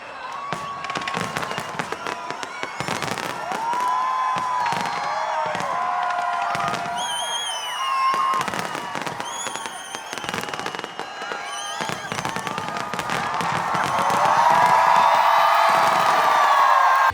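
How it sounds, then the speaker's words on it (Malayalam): Loud New Year fireworks in Dubai bursting again and again, with sharp cracks and crackling, while a crowd cheers and whoops throughout. "ദുബായിലെ മുപ്പത്തിയാറ് സ്ഥലങ്ങളിലും വെടിക്കെട്ട് അരങ്ങേറി"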